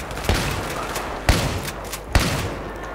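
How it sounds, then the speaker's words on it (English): Three sharp, loud shotgun blasts from Battlefield 3, spaced about a second apart, each with a booming low tail, fired amid a steady roar of in-game battle ambience. "Maybe I can long shot someone here with my shotgun."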